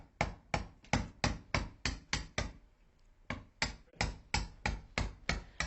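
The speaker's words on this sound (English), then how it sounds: "So just little taps on the screwdriver." A screwdriver is tapped with light, repeated hammer blows to score a notch line in old horsehair plaster on a wall. Sharp knocks come in a steady rhythm, close and clear, with a brief pause midway and no talk.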